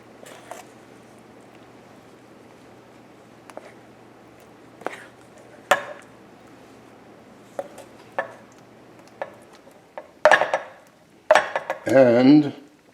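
Spoon scraping and clinking against a pan while mushroom ragout with prosciutto and sherry is served out, sparse separate taps that build to a busier clatter and scrape at the end.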